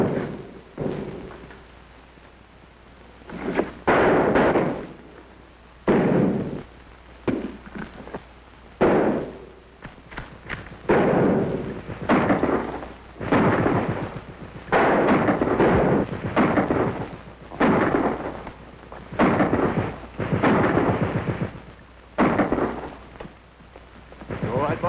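Gunfire in a war-film battle scene: loud, irregular bursts of shots and heavy booms, some in quick clusters, others spaced a second or two apart, with faint voices between them.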